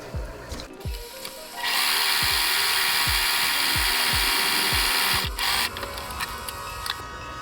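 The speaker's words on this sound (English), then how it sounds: "what I'm going to do is I'm going to sew all around this" A sewing machine stitches all around a traced fabric circle: a loud, steady whirring run with faint rhythmic thumps underneath, set between shorter bursts and pauses, with no talk.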